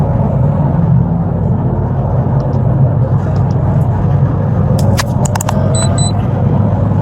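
A car speeding at over 100 miles per hour produces a loud, unbroken roar of engine and road rumble, with a few faint clicks and beeps near the end.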